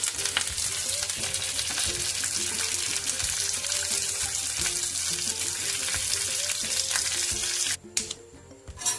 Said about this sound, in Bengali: বাদামটা আর কারি পাতাটা ভেজে নেব।